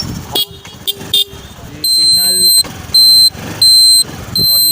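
A Honda Activa 5G scooter horn blares in about four loud, close beeps of similar length, with short gaps between them and a little background noise around.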